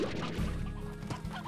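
Chicken clucking in the video game Slime Rancher, a short close burst of squawky fowl calls with a thump or crash mixed in, over steady game background sound.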